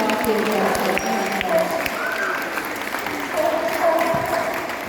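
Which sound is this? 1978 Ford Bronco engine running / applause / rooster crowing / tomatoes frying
applause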